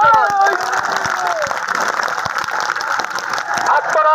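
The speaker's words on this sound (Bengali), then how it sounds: "এই জন্য আমরা সকলে করতালির মাধ্যমে তাকে অভিনন্দন জানাই।" A student political rally crowd applauds, a continuous patter of clapping sustained for several seconds over an outdoor public address, with some voices mixed in.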